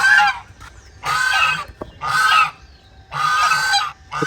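Farm waterfowl honk loudly at close range, giving four bursts of harsh, nasal honks separated by brief pauses, with no other sounds.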